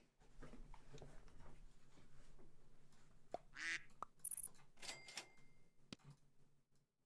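Cartoonish duck quacks from the Super Auto Pets video game, short bursts mixed with clicky interface blips and small electronic effects, fairly faint and without any voices.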